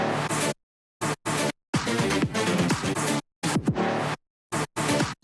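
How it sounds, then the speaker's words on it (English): Chopped string sounds used as percussive taps in a bass house remix drop, cutting in and out in short rhythmic bursts with dense full-range synth layers and dead silent gaps between stabs. "there's string sounds that I made as stops. I not removed the main strings that make arpeggios, but I actually take as tap sounds."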